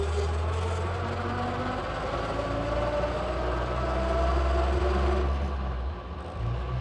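A 1922 Rolland Pilain Type R vintage car pulls away, its engine a steady, loud low rumble with rising tone as it gathers speed, fading slightly near the end.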